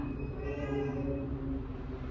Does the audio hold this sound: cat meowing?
yes